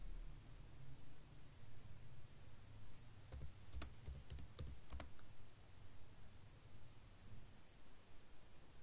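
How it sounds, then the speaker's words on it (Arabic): Quick bursts of computer keyboard typing, about half a dozen crisp key clicks bunched in the middle, sound faintly over a quiet background hiss. "نكتب في صندوق البحث لوحة المفاتيح"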